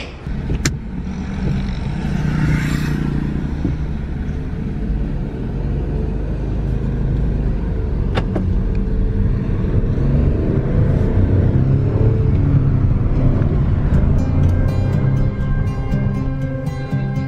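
A Chevrolet Onix car driving through city streets, its engine rumbling steadily and swelling at times, with traffic noise around and no talk.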